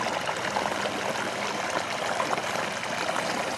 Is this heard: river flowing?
yes